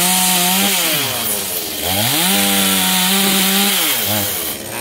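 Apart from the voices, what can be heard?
chainsaw cutting a large tree branch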